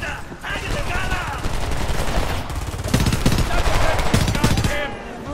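ACR rifle fire in the video game Homefront, heard as rapid bursts of automatic gunshots that grow denser and louder partway through, with a voice talking over parts of it.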